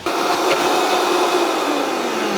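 A steady, loud motor whir runs throughout without pause, close by: a blender churning herbs with a little water at constant speed.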